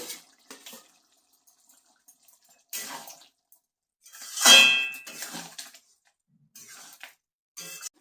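Prawns and water going into a simmering yogurt curry with pointed gourd in a cooking pot: sparse metallic clinks, then a louder splashing burst midway, with quiet gaps and no talking.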